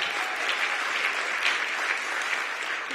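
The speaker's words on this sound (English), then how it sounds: "Let's give our pastor another big round of applause" A church congregation gives its pastor a sustained round of applause, close and full, a steady wash of clapping with no talk.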